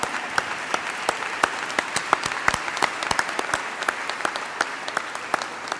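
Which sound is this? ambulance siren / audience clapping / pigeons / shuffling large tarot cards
audience clapping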